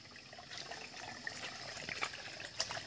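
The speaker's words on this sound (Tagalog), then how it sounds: "Patuloy yung pagbukal niya." Spring water welling up from the ground in a forest, a soft, faint trickling and bubbling with small scattered splashes, heard alone without talk.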